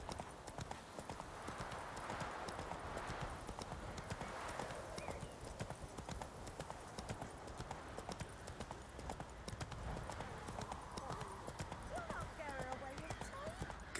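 Horse hooves clip-clopping at a steady riding gait in The Witcher 3 game, a rhythmic run of close, fairly quiet hoofbeats under game voices and ambient sound, with a brief whinny near the end.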